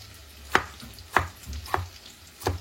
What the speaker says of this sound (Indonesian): Ieu tomatnya diiris-iris kieu we.